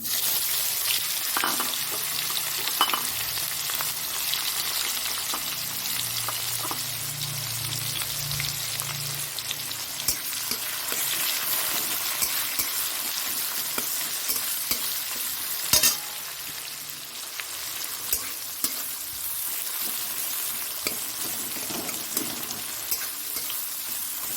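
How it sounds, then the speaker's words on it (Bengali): Chopped onion frying in hot oil alongside cumin, dried red chili, cardamom, cinnamon and cloves, a dense continuous sizzle with the scrape and shuffle of a spatula stirring the pan, close up with no talking. "পেঁয়াজটা মোটামুটি ভাজা হয়ে গেছে"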